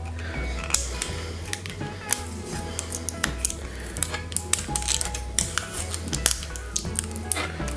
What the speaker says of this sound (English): it's got some plastic on there that needs peeling off